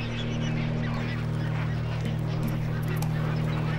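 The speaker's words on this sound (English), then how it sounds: "more than a million flamingos flock to Bogoria" A huge flock of flamingos massed at Lake Bogoria keeps up a dense, continuous honking chatter, many birds calling at once in a loud, unbroken wall of sound over a steady low drone.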